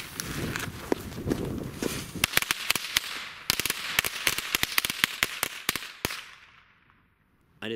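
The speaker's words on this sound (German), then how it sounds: "Und jetzt hier noch die schönen alten Knallkörper von Weco," Old Weco firecracker mats burst in a fast crackling chain of sharp bangs, loud and nearby, before fading into quiet with one last pop at the end.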